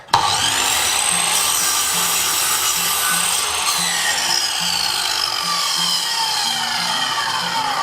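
A laser mitre saw cuts through pine skirting board: a loud motor whine with a gritty blade rasp that continues steadily, then the pitch slowly falls as the blade winds down.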